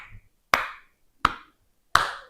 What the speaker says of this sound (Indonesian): Silahkan nanti kalian tepuk tangan